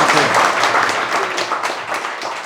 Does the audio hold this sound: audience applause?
yes